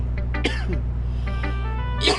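Someone coughs during a gaming livestream, a couple of short throaty bursts close to the microphone over steady background music and noise.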